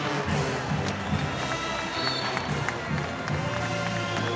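A crowd cheers and claps at a BGSU home women's basketball game against Florida in a WNIT matchup, a steady roar filling the arena with scattered claps, squeaks and voices.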